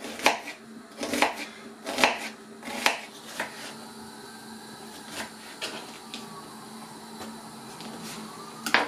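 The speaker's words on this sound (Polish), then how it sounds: "teraz pokroimy w kosteczkę taką drobną cebulę" Onion finely diced with a knife on a cutting board, sharp regular chopping strikes at first, then slower, softer cuts; close and alone with no talk.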